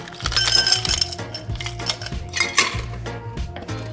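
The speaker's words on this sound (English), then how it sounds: "And I'm gonna add ice cubes to it." Ice cubes drop into a tall sling glass in a series of bright clinks and clatters, several quick knocks of ice against glass heard up close.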